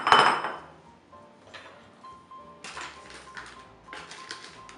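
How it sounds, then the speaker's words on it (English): Tempura batter being prepared in a bowl for frying pumpkin flowers: a clear clink at first, then scattered light tapping and metallic clatter of a spoon against the bowl, close and with no voices. "We're going to prepare our batter."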